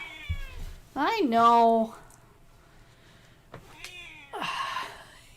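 A house cat meows loudly near the microphone, first with a long rising-falling cry and then a second meow a few seconds later, while someone speaks briefly.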